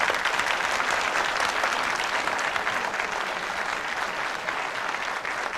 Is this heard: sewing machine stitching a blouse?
no